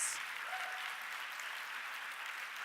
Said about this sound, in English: can I have a round of applause for all 22 of our long listers, finalists, and winners?